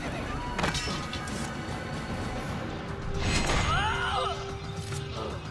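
An Assassin's Creed horse whinnies over the clatter of its hooves, a neigh rising near the middle amid game ambience and scattered knocks.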